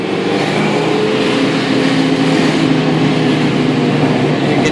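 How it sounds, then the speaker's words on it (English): Supercharged 1995 Ford Mustang engine pulling hard under load, a steady loud mechanical roar with a sustained blower whine layered over it, continuous and close with no pauses. "You can definitely hear the fucking blower"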